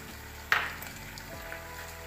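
Tomato paste hits a pan of sizzling vegetables for chicken jalfrezi with a sudden bright hiss that fades into a quiet, steady frying crackle.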